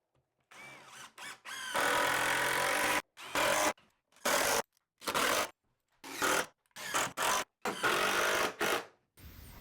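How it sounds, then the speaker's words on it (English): A power driver sinks screws into 2x6 boards, its motor whirring in repeated loud bursts of varying length separated by short pauses, close by and with no talking. "I'm going to finish screwing all these 2x6s in place"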